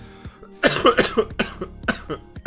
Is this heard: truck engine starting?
no